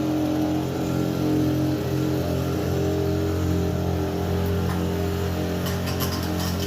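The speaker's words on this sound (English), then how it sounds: "because that is a leaf blower." A loud leaf blower runs steadily close by, its engine holding a constant droning hum with strong low harmonics, continuous and without pause for the whole stretch.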